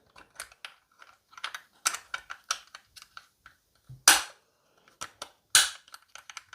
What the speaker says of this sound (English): Let's put our bobbin case back in.